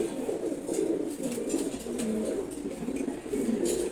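Several male pigeons in a new thick-rod cage coo steadily in low, rounded phrases, moderately near, with a faint background hiss and no talking.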